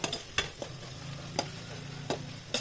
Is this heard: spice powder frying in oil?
yes